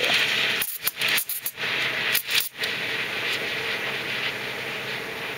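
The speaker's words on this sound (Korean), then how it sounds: "여기 지금 거품이 만들어지는 소리예요." A steam wand hisses loudly and continuously while frothing milk, with a few brief sputtering, chattering bursts early on before the hiss settles into a steady roar.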